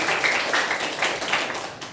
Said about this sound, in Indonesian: Ya, tepuk tangan dulu kalian.